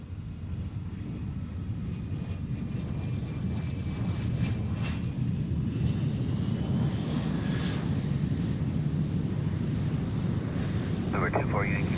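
A plane touches down on the runway at Boeing Field, a steady broadband engine and rolling roar that stays loud throughout with wind noise, while people talk faintly in the background.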